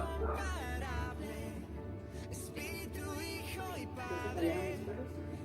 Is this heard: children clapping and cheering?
no